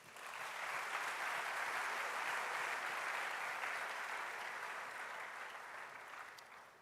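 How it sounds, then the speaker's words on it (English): Audience at a professorial inaugural lecture applauding, a sustained even wash of many hands clapping that swells quickly, holds steady, then tapers slightly, with no voices. "Shall we please applaud him?"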